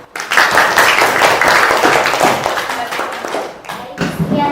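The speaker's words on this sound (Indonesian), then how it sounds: "Kami tepuk tangan." A small group applauding in a classroom, dense close clapping that runs nearly the whole time, thinning briefly toward the end before a final burst.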